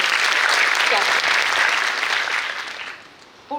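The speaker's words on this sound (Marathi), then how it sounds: "एकदा जोरदार टाळ्या झाला पाहिजे" A hall audience gives loud, sustained applause after praise for a student who scored 700/720 in NEET 2023. The clapping fades toward the end, and a short voiced sound cuts in right at the close.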